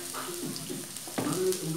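Urad dal, onion, green chili and ginger fry in oil in a clay pot, giving a soft, steady sizzle beneath someone talking.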